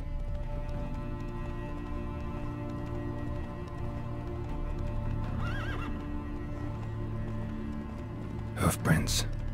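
A horse in The Witcher 3 game whinnies sharply near the end, with a softer neigh earlier and faint hoof clip-clop beneath steady ambient game noise; no speech during the sounds.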